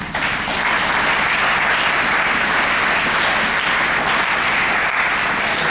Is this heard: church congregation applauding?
yes